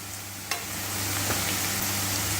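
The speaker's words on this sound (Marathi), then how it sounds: "कांदा आणि टोमॅटो मस्त परतून झालेला आहे" Onion and tomato sautéing with spices in a pan, a steady close sizzle and hiss with a sharp clink near the start and a faint scrape of stirring, no talk.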